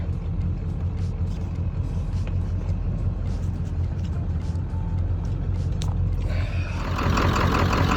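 A Ford F250 with a 7.3L Powerstroke diesel idles roughly, a steady low, lumpy rumble heard close, with a brief louder swell near the end.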